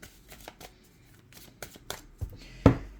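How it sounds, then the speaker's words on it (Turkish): A tarot card is drawn from the deck during a Scorpio reading: soft papery rustles and light slides, ending in one sharper card snap and flick close by. "Şuradan da bir kart alayım."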